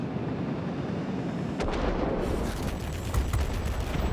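Aircraft guns firing at a Seahawk in World of Warplanes, a dense, continuous rumble of rapid gunfire with sharper bursts partway through, loud and steady without speech.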